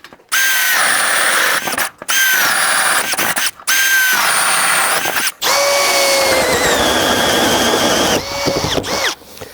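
Compact cordless drill set to speed 2 bores into plywood in several close, loud bursts separated by short pauses, the motor pitch rising and dipping as each hole goes through.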